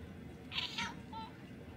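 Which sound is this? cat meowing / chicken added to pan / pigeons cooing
cat meowing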